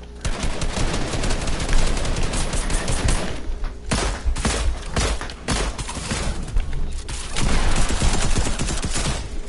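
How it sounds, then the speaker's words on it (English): Dense, continuous video-game gunfire fills the clip, with rapid automatic bursts and overlapping shots that run almost without pause, loud and close throughout. "Gunshots from where? From the building."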